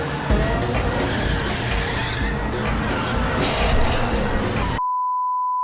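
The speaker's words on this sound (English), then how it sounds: "This thing can drift" An M26 Pershing tank drifts in a video game, its engine droning steadily as tracks skid and squeal across the ground, with scattered game effects over a continuous rumble that cuts off into a single steady beep.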